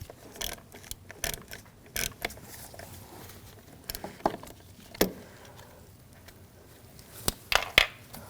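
Screws on an Audi S4 4.2L V8 wiring harness are taken out with a T20 socket, giving irregular close clicks, ratcheting taps and small metallic knocks scattered through otherwise quiet work.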